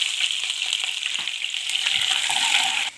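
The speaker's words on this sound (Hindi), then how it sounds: "अब थोड़ा सा ऑयल ऐड करेंगे, थोड़ा सा अदरक और हरी मिर्च डाल देंगे" Ginger and green chilies frying in hot oil in a kadai give a loud, steady sizzle that runs without a break and stays close, with no voices over it.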